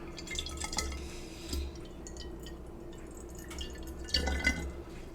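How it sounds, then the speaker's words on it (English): Distilled water drips and splashes into a 500 ml glass Everclear bottle in a few uneven bursts, with faint clinks and a quiet low hum underneath. "So I'm just going to fill up the bottle of Everclear with my distilled water."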